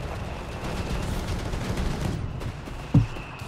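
Heavy 150mm guns of a Sturm Panzer IV firing in Company of Heroes 3, over a rumbling battle din with scattered gunfire and one sharp, booming blast near the end.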